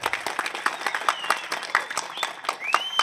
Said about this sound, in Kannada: ಇದಕ್ಕೆ ನೀವು ಚಪ್ಪಾಳೆ ಹೊಡಿಬೇಕು